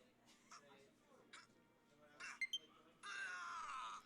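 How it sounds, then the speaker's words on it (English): Ike's strained yell during Aether in Super Smash Bros: faint voice and short game blips, then a loud, sustained scream bursting out over the last second. "that's the scream that he does for Ether"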